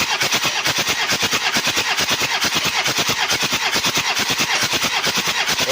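A Toyota Kijang diesel engine cranks on its starter during a compression test, producing a loud, steady, rapid chugging rhythm that continues evenly without catching.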